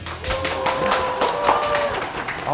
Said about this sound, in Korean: 이렇게 박수까지 감사합니다.